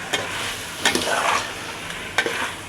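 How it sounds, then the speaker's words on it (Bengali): Chicken with spices is stirred in a hot pan for a papaya chicken curry. A loud, close sizzle is broken by three scraping strokes of a spoon against the pan. "এভাবে নেড়ে দিবেন যেন পুড়ে না যায়।"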